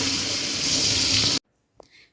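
Running tap water gushes over a greasy kitchen chimney filter held under the sink faucet, a loud close stream for about a second and a half before cutting off to near silence.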